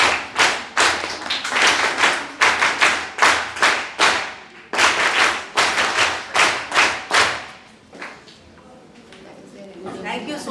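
An audience at an NSS health and menstrual hygiene session claps in loud, evenly spaced bursts that thin out and die away near the end.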